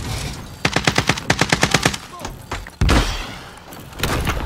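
Rapid bursts of automatic gunfire in Call of Duty: Modern Warfare, a quick string of about ten evenly spaced shots followed by a heavy thump and a lingering rumble, loud and close with no speech over it.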